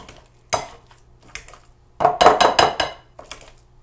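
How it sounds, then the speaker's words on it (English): Cooked potatoes, softened in a pressure cooker, are pressed down with a hand masher in a pot, giving several dull metallic thuds and scrapes in two bursts, the second a quick cluster of repeated knocks. "with the hand masher as much as I can. So we're just mashing those down."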